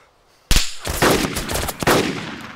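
Video game gunfire in a villa-defense match erupts suddenly after a half-second of quiet: a close, loud burst of rapid automatic shots with a few sharper single cracks, continuing to the end.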